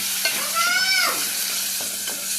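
Tomatoes frying in a pan for tomato rasam, a steady close hiss and crackle with a brief squeaky scrape of stirring partway through.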